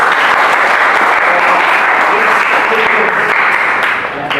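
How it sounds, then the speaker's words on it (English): Loud, dense applause from an audience at a debate training session in a hall, steady and sustained throughout before tapering slightly at the end. "once again let us give a good applause"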